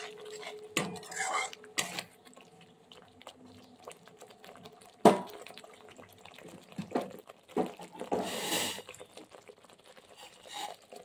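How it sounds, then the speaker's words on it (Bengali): Spices frying in a pan with crushed kasuri methi, heard as scattered metallic clinks and scrapes of a utensil against cookware with a soft sizzling hiss, one sharp clank midway, close and moderately quiet without talk. "দিয়ে আবার একটু মশলাটা কষিয়ে নিচ্ছি।"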